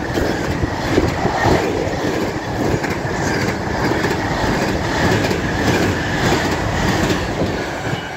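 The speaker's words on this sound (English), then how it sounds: "Freightliner 66 with a container train, 66571." A Freightliner Class 66 diesel locomotive, 66571, hauls a container train past at speed on the West Coast Main Line at Wigan North Western, giving a loud, steady roar of wagons and rolling wheels close by for the whole stretch.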